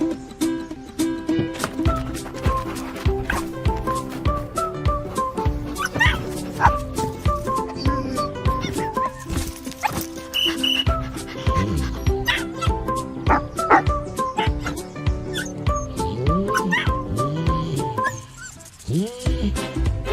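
Dogs bark and yip insistently through a Subaru Ascent three-row SUV commercial, loud rapid woofs with whimpers layered over music, nearly continuous and close.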